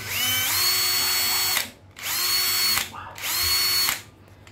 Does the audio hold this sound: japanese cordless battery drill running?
yes